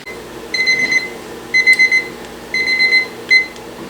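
A kitchen timer goes off after a canner's boiling-water processing of watermelon rind pickles, loud shrill electronic beeps in four bursts, the third a rapid quadruple pulse, alone with no talking.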